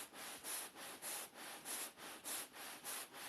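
A wire cuts through seat foam in slow, even back-and-forth sawing strokes, about ten soft rasping pulses in a steady rhythm, close and quiet with no voices.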